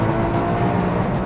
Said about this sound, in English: you can hear that the engine will rev match, but also if I increase the RPM